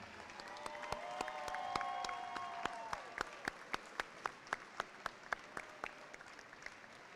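Warm applause from a school audience honouring a unified bocce team at a Special Olympics banner ceremony in a high school, dense clapping at first, then thinning into a steady rhythmic beat of single claps near the mic.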